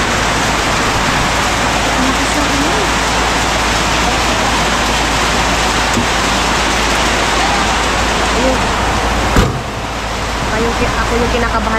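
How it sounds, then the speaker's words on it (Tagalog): Heavy rain in Agusan del Sur roars steadily and densely, close by and unbroken, with a brief thump near the end. "Grabe ang lakas ng ulan"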